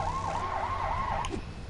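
A police motorcycle siren from Lego City Undercover on PS4 yelps in quick repeated rising and falling sweeps over a low engine hum, loud and close, then cuts off abruptly near the end with no voices.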